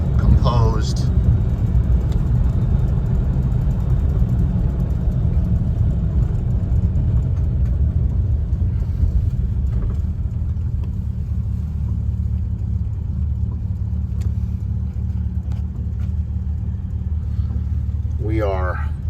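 A 1956 Jaguar Mark VII M engine turns at around 650 rpm in gear while the car drives over a rough, cracked road, giving a steady low rumble throughout with some speech over it.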